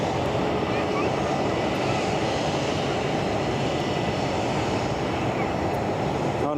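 Boeing 757 jet at Edinburgh Airport, its engines giving a steady, loud broadband roar with no breaks, while voices talk faintly underneath.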